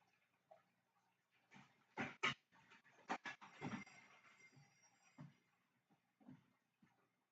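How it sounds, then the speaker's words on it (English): A dog waiting at a house door pants and whimpers close by, with a few sharp, loud bursts clustered in the middle and softer sounds trailing off. "dog at the door"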